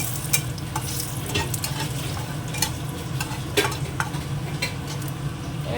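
Whole cumin seeds, dried red chillies and a bay leaf tempering in hot oil, a close steady sizzle broken by repeated sharp crackles and pops from the spices, with no talking.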